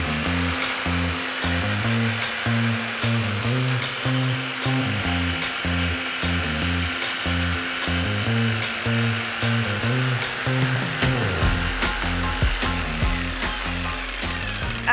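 A jigsaw buzzing through wood, with a rapid, pulsing cutting rhythm that runs loud and continuous with no talking.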